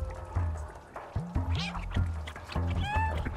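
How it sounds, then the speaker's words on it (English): A cat meows repeatedly in the video game Stray, several short cries spread across a steady bed of game music and ambience, some closer and louder than others. "I meowed so often it gave me an achievement."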